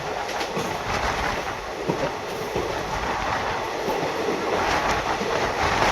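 The 11139 Mumbai CSMT–Hosapete superfast express runs on rails near Mumbai, a continuous loud rumble with rhythmic clickety-clack of wheels over joints and occasional metallic hiss, no voices.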